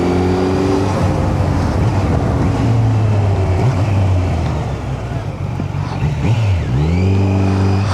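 Kawasaki Z900 motorcycle engine on an early-morning ride toward Nandi Hills, a loud close drone with rising and falling rev tones and a sharp climbing rev near the end, plus a voice speaking over it.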